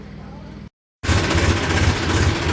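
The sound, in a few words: tractor engine reversing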